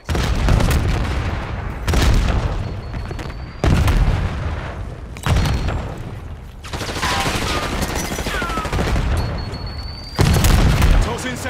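Dense gunfire and heavy explosions fill a Call of Duty 6 battle, booming blasts and rapid shots layered continuously at close range, with game voices calling out under the din.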